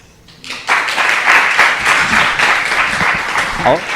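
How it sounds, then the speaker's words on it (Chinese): A church congregation claps together after a testimony, a dense burst of applause that rises quickly and holds steady for a few seconds, loud and close. "我们拍手"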